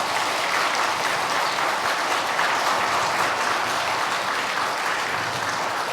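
Lecture audience applauding a priest after an Advent talk in a church setting, a full, even roar of many people clapping that holds steady at high loudness throughout.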